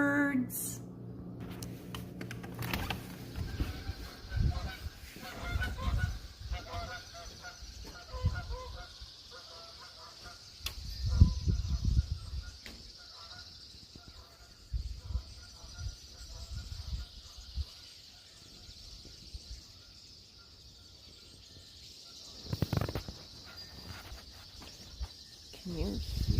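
Early-morning outdoor chorus of many birds, with goose-like honks, chirps and a steady high insect-like trill throughout, broken by occasional closer rustles and a person talking at times.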